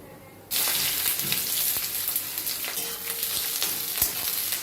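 Sliced onions go into hot oil already tempered with whole spices for chicken kosha, and a loud, close sizzle bursts out suddenly, then settles into a steady frying hiss with light stirring crackles.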